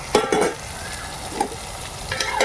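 Eggplant sautéing in oil with tomato for a Dindigul-style oil brinjal curry, a soft steady sizzle under intermittent scraping stirs of a spoon against the pan, close and moderately loud.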